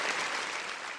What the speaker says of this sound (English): Let's give a round of applause for Edgar